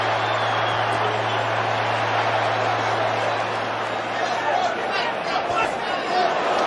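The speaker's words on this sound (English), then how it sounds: "You hear the crowd's reaction." At a boxing arena during the Canelo vs Saunders fight, a large crowd roars and murmurs continuously in a dense, steady wash, with a commentator's voice running over it and a low electrical hum underneath.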